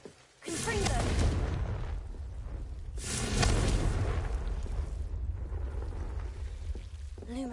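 Confringo blasting spell from Hogwarts Legacy, two loud booming bursts a few seconds apart, each with a crackling rumbling tail filling the clip.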